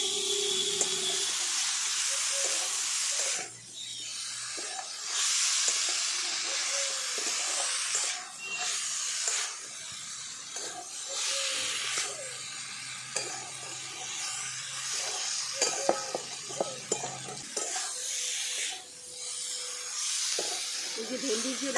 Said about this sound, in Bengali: ভেন্ডিটা দিয়ে আমি একটু হালকা হাতে নাড়াচাড়া করে নিচ্ছি